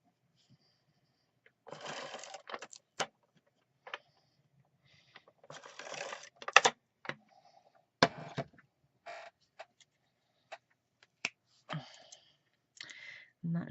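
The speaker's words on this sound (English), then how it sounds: "So let me grab my tape runner." A tape runner applying adhesive to a greeting card, heard as close, sparse clicks and short scraping strokes separated by silence.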